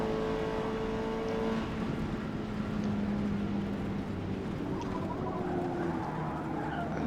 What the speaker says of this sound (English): tires are sliding all over the place.